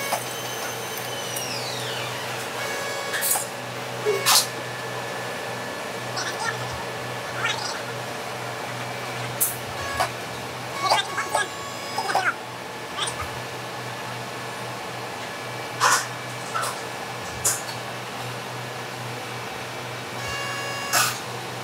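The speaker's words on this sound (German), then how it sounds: "hier wird jetzt gerade 35 mm Federstahldraht verarbeitet auf der Wickelmaschine" A coil winding machine forming springs from 35 mm spring steel wire runs with a loud, steady mechanical drone, broken by recurring high squeals and metallic knocks as the wire wraps around the mandrel.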